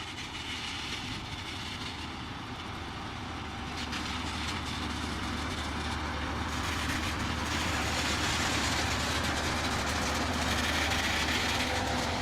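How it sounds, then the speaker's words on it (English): A track renewal train hauling rows of concrete sleepers rumbles along the rails, a steady low mechanical drone with rattling and clanking that grows gradually louder as it nears. "It looks like a train carrying its own cargo."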